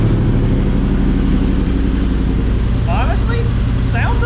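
A 2023 Yamaha R1M sits on a dyno, its engine running with a steady close mechanical drone that rises slightly, with brief voices near the end.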